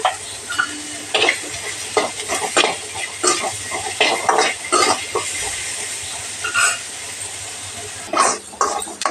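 Okra (bendakaya) frying in a pan with a little salt, a steady sizzle broken by repeated scraping and clattering strokes of a spatula against the metal as it is stirred.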